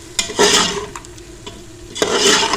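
Ground coriander and ground cumin are fried in a pan and stirred, giving two bursts of loud, close scraping and sizzling with a brief quieter stretch between them. No one speaks.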